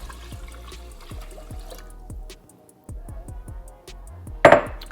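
Water runs and splashes into a pot of rice in uneven bursts with dripping, bubbly gulps, then a brief louder splash near the end.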